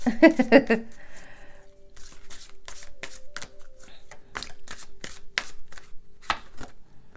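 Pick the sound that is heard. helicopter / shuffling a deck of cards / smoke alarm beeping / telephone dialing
shuffling a deck of cards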